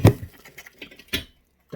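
A cat knocking things over indoors, heard as a quick scatter of close wooden clatters and light rattles, with one more thump about a second later.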